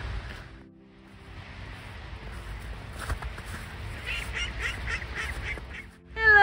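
Ducks and swans squabbling outdoors, with honking and quacking calls over a low background rumble, then a sudden louder burst of squawking at the end.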